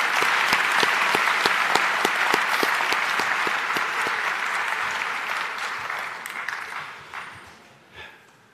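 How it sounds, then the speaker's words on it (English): A crowd at a high school graduation ceremony applauds with a dense, loud wash of clapping. It holds steady for several seconds, then thins and fades out with a few last claps. "Please join me in a round of applause to show our appreciation for these truly wonderful staff members."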